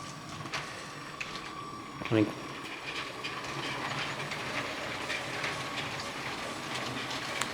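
Lego City toy train running on its track, a steady faint rolling rumble with light rhythmic clicking, someone talking over it now and then.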